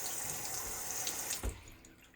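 Water runs steadily from a kitchen faucet with its aerator removed to flush dirt from the lines, a continuous close splashing hiss that briefly surges with a thump and then eases off.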